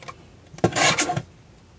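Scissors or a blade trimming excess paper from a handmade card, a short close rasping, rubbing cut of about half a second, with no talking.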